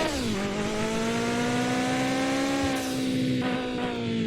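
A car engine in the Mon Bazou video game shifts gear without the clutch, a steady loud drone with a dip in pitch near the start as the gear changes and a slight rise toward the end.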